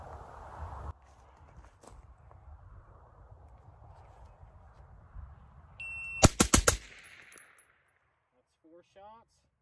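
A rifle fitted with a Geissele Super 42 H2 buffer fires a quick burst of sharp shots outdoors, heard at a distance after a stretch of quiet ambient noise, with a faint metallic ring afterward.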